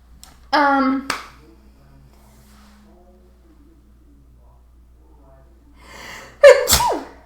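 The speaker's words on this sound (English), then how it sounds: "oh my goodness, sneezes" Two loud, close sneezes from one person, the first near the start and the second, with a sharp gasp-like intake, near the end, separated by a long quiet stretch with a faint low hum.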